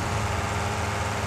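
A loud tractor engine in a farming game drones steadily and close up, a low rumbling hum that stays constant throughout the short moment with no talking.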